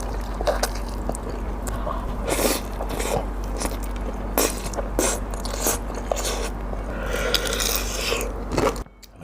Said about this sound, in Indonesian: Kita cobain dimsum kukusnya.